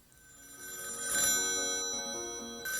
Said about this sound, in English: That's her phone.